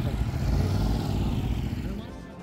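Motorcycles and cars rolling past at a Ram devotees' bike and car rally in Washington, USA, a close, steady low engine rumble with mild revving that eases slightly toward the end, with voices faintly underneath.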